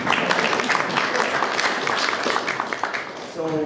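An audience breaks into a steady burst of applause, many hands clapping at once at a moderate distance, easing off near the end.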